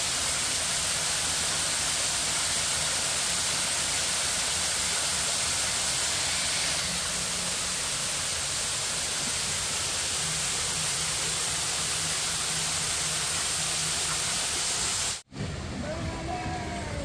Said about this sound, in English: Yet another waterfall.